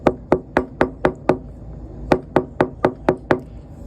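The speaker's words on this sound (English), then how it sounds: "they get a knock at the door" Sharp knocks on a door come in two quick runs of six evenly spaced raps, loud and close, with a brief pause between the runs.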